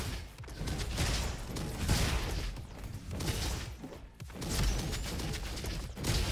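A rifle in the Roboquest video game fires in a dense, continuous barrage, with crashing impacts and whooshes blending into a busy roar that briefly drops away twice.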